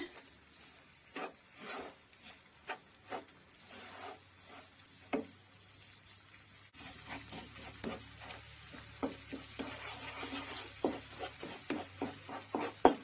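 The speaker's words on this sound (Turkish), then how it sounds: "Şimdi irmiğimizi kavurmaya başlıyoruz." Semolina roasting in melted fat in a pan over low heat for walnut and grape-molasses halva, with a steady soft sizzle under repeated scraping and stirring strokes of a utensil against the pan, close and fairly quiet.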